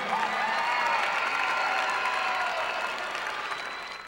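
An audience at a ballroom and tap dance anniversary event applauds the ballroom dance champions, a sustained dense clapping from a crowd that fades slightly toward the end.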